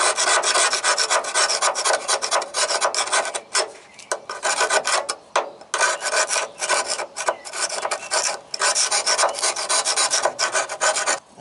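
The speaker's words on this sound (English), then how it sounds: "And I am up here with a scraper." A hand scraper grinds rust off the ground point of a 1994 GMC Sonoma pickup: loud, close, harsh rasping strokes repeat almost continuously, broken by a few short pauses between passes.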